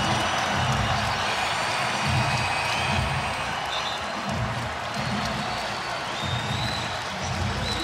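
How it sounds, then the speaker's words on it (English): Basketball arena crowd at a Providence Friars versus Marquette college game cheering and applauding in a dense, sustained roar, with a commentator's voice faintly underneath. "And listen to this crowd."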